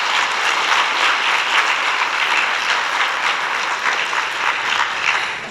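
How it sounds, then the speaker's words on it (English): Sustained audience applause at a pharmacy research symposium, dense steady clapping from a large crowd filling the whole stretch at an even level, fading slightly at the end. "So guys, clap hands for yourselves."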